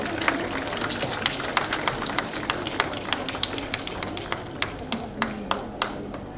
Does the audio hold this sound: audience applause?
yes